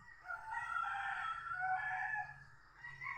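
Rooster crowing in a rural provincial setting, a long drawn-out call lasting a few seconds, fairly close and clear against quiet countryside background with low rumble.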